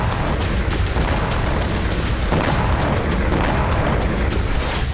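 Explosions from Ukrainian strikes rock Crimea in a dense, continuous barrage of heavy booms and rumbling blasts, loud and overlapping, with no pause across the stretch.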